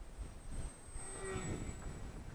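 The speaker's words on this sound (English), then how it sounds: "Yeah, it was a 2S brushless plane." Eachine Mini P47 bubble-top warbird RC plane with a 2S brushless conversion buzzing through a pass, a steady motor whine rising and falling over outdoor wind noise, moderately near.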